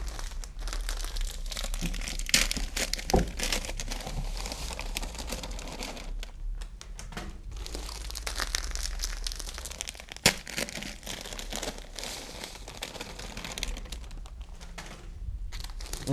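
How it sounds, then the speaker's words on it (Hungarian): Dry bream groundbait, breadcrumbs and vanilla aroma powder being mixed by hand give a continuous close crinkling and rustling with scattered crunchy grains, steady and fairly quiet throughout. "Az etetőanyagok összeállítását a száraz összekeveréssel kezdeném."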